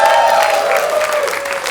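Stand-up comedy audience in Atlanta applauding and cheering, a brief steady wash of clapping with crowd voices and a held vocal tone over it.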